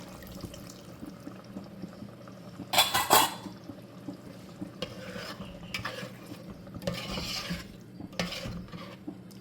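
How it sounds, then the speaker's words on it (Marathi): Ground masala water is poured into a simmering Agri-Koli style mutton masala curry. A few brief splashing, sloshing bursts rise over a low bubbling, scraping kitchen background, close by and without speech. "आता ह्यामध्ये मी थोडं हे वाटणाचं पाणी आहे ना ते घालत आहे"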